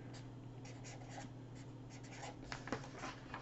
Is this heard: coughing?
no